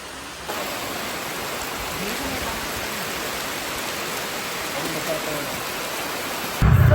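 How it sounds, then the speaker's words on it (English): Heavy rain pours steadily outdoors as people shelter under a tree, a constant dense hiss holding at even loudness through the whole stretch, with a brief louder low rumble right at the end. "it started raining really heavily and everybody is just sitting under the tree"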